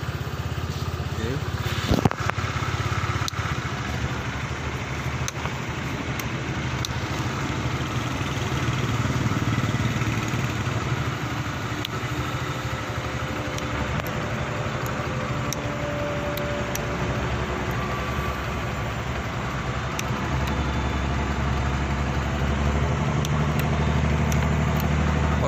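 A Honda Vario scooter engine runs at a steady idle for the whole stretch, a constant low drone with brief speech over it.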